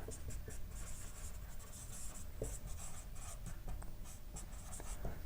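Pen scratching on paper while a commerce teacher writes out an accounting ratio formula, soft intermittent strokes close to the microphone with no talking.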